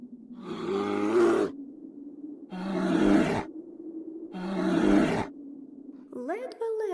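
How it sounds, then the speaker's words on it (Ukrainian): Three loud, drawn-out roaring bursts from a bear with pauses between them, a low growling roar, followed by a short higher cry at the end. "Голосно як заревів."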